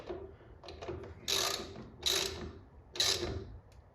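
A hand ratchet snugging down the valve cover bolts on a 1959 Chevy Impala convertible, giving three short, close rasping clicks in a steady rhythm with quieter handling noises between them.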